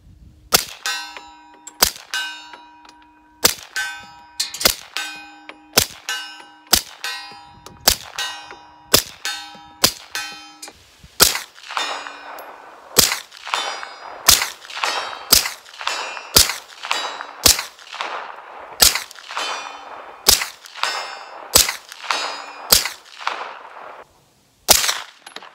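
Suppressed Springfield XD-M Elite pistol firing subsonic ammunition: about two dozen sharp, close reports at a steady pace, each followed by a brief metallic ring, with no talking.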